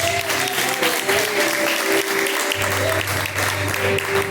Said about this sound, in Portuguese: Exalte a Deus com palmas.